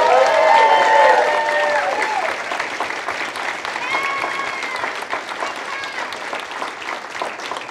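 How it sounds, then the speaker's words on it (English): A large crowd claps loudly for baptisms at a church service, and the applause slowly thins and fades away. "One more big round of applause for all of our baptisms today."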